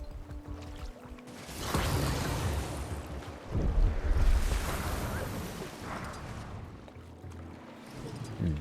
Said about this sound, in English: there are sounds of a waterfall in the cragged upland